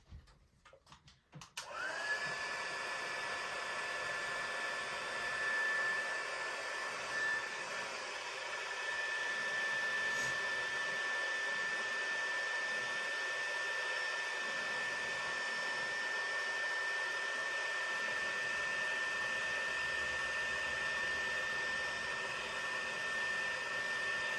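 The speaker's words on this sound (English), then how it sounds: "One more time, I'm going to run to the heat tool." A crafting heat tool blows hot air for heat embossing, a loud, steady whooshing hiss with a high whine that runs unbroken for the whole stretch after a brief clatter as it switches on.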